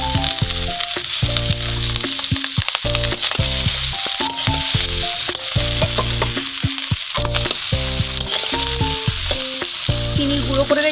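Rice frying in a pan with vegetables, cashews and raisins, a loud continuous sizzle broken by frequent scraping and clattering stirring strokes throughout.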